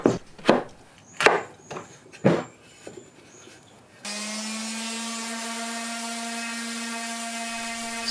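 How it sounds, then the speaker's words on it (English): Several sharp knocks and taps on wood, then a power sander starts sanding a wooden wall shelf and runs with a steady, droning whine to the end. "Time for sanding. Hours and hours of sanding."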